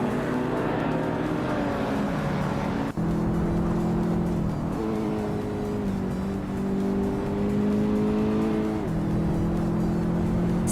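Race cars in a racing video game roar along and overtake one another, steady high engine whines shifting pitch as they pass, with a sharp gear change partway through and continuous loud revving throughout.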